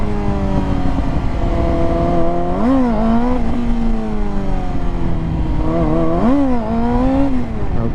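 A motorcycle engine revving hard as the rider tries to lift the front wheel off the ground, a loud close drone with two sharp throttle blips that rise and fall, and no voices.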